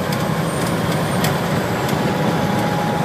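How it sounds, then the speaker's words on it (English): A large truck rumbles steadily from inside the cab, a loud continuous low engine drone with faint rattles and clicks on top. "And we're rolling in a nice blue truck."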